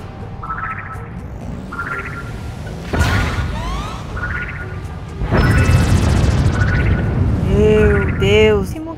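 Bomb blasts in the Spore video game: sharp crashing bursts strike a couple of times amid chirpy creature calls and game effects, loud and close.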